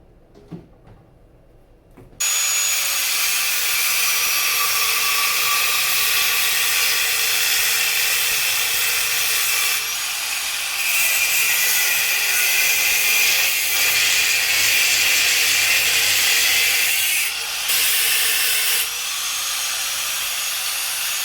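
A flap disc on an angle grinder shrieks steadily across welds on a Yamaha XS650 motorcycle, the loud, bright abrasive hiss starting abruptly after a short quiet moment and running almost unbroken, with slight dips in pitch as pressure shifts.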